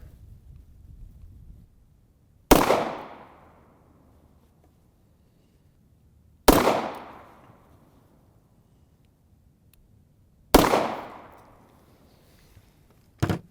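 Three sharp Hi-Point pistol gunshots fired at targets outdoors, each a loud crack with a decaying tail, spaced about four seconds apart, with faint wind noise between.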